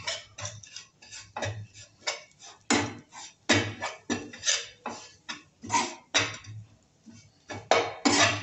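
Metal spoon scraping and clinking against a cooking pan while spices for pav bhaji are stirred, a steady series of sharp, close taps and scrapes in an irregular rhythm.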